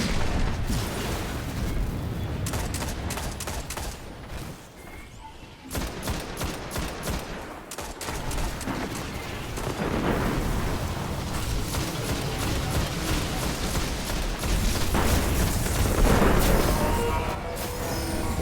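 Rocket explosions and heavy weapon fire in Destiny's Vault of Glass raid, a dense, continuous barrage of booms and rapid bursts with brief lulls, loud throughout and with no voices.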